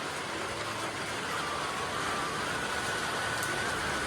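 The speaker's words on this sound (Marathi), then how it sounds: "संध्याकाळ झालं की परत पाऊस चालू झाला आहे" Light evening rain falling steadily over a village in Konkan, a soft, even hiss with no breaks, heard alone without any voices.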